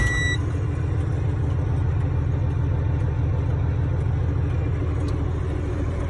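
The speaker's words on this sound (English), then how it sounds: "I'm gonna go ahead and do a safe start of my engine in order to build the pressure up to 120 pounds" A diesel truck engine idles steadily after a start, building air brake pressure toward 120 pounds with the transmission in neutral, giving a continuous low, even rumble that stays close and loud throughout, with no talk.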